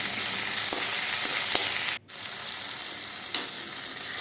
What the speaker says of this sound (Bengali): টমেটো দিয়ে নাড়িয়ে চাড়িয়ে এর মধ্যে লবণ আর হলুদ দিয়ে আর একটু ভাজা করে নিতে হবে